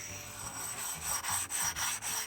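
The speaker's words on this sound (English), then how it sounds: "Probably going to take a soapstone or a grinding stone on the bottom here just to make sure those burrs aren't going to be sticking out" A grinding stone is rubbed back and forth across the underside of a 3-inch Grizzly T27661 milling vise, making a steady rhythmic scraping with several repeated strokes, close and moderately loud, with no talking.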